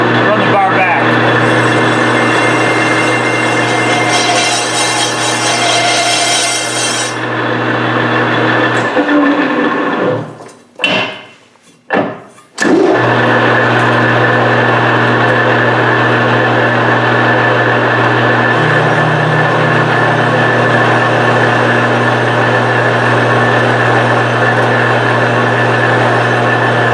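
A Colchester 17-inch lathe runs steadily with its boring bar being fed back while boring wheel centers, a loud continuous machine hum with a few abrupt cut-outs and bangs mid-way before the drone resumes.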